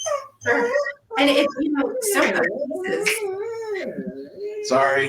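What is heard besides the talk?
dog barking and whimpering at a rabbit in the backyard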